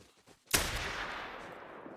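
A single loud rifle shot rings out at an animal in a hunting video game, a sharp crack followed by a long fading echo, after a few quiet seconds.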